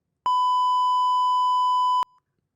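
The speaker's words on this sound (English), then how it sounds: "It beeped in the headphones." A single pure censor-style beep used as a spoiler warning, a steady mid-pitched tone lasting nearly two seconds with sharp clicks at start and end, loud and isolated against silence.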